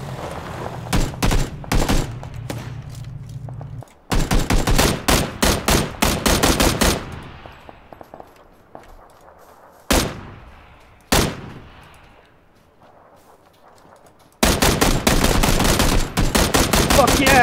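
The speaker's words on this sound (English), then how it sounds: "Kind of hearing some gunshots in that direction." Bursts of automatic gunfire and single shots in PlayerUnknown's Battlegrounds, loud and close in dense volleys, with a few isolated cracks and quieter gaps between them before another sustained burst at the end.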